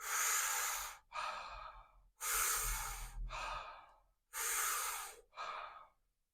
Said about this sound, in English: And back into the next round of breathing.